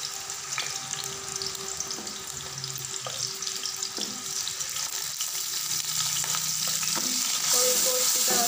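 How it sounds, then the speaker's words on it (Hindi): Chopped onions fry in hot oil with a continuous loud sizzle, stirred now and then with soft scraping taps of a spoon, the hiss swelling brighter near the end. "अब हम इसमें प्याज चॉप किए हुए डालेंगे।"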